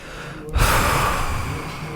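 A voice imitates loud breathing with one long, heavy, noisy exhale that starts abruptly and holds for over a second, close to the microphone and alone.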